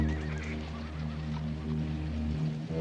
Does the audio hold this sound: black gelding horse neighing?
yes